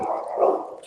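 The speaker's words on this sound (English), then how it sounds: "We got a dog barking in the back." A dog barks in the background, a single short, muffled bark that is loud and close enough to stand out clearly on its own.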